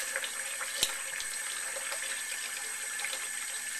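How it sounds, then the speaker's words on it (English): Tap water runs steadily into a sink over squid, a faint, even hiss of flowing water with one small clunk near the start. "See, I've got the water running on it."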